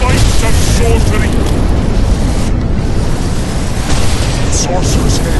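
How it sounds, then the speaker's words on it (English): Flaming fireballs raining from the sky and exploding in The Witcher 2, a loud dense rumble of fiery blasts and crackling bursts that runs throughout without pause. "Flaming balls rain from the sky"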